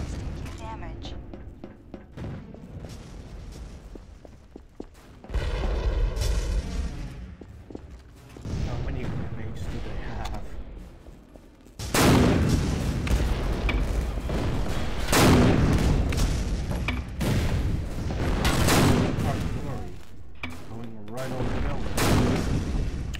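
Mortar and artillery fire in the Empires Source mod on the emp_homeland map: repeated heavy booms and blasts over a continuous battle roar, with players talking throughout.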